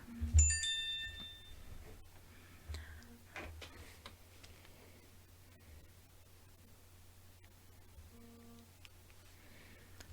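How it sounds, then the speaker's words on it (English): A mobile phone goes off nearby with a quick run of bright, chiming tones near the start, then quieter ticks and faint repeated tones against soft background hiss in a quiet room. "My phone is going off."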